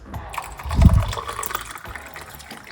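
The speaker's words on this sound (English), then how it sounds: "Pour some more hot water on it," Hot water poured over boiled garlic and lemon peel in a container, a short gushing splash swelling midway then trickling off, close and moderately loud.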